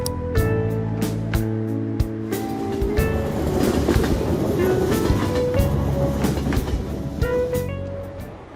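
A subway train rides along in the Persona 5 Royal video game with a loud, rhythmic clickety-clack and rumbling wheels. Sharp periodic clanks punctuate the noise, all mixed with background game music.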